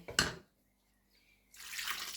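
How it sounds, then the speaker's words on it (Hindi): Water poured into a pot of nihari meat in a home kitchen: a short splash at the start, a quiet gap, then a steady rushing pour that runs to the end. "ये 1 लीटर मैंने इसमें पानी डाल के मैं देखती हूँ कि इसमें और कितना पानी जाएगा।"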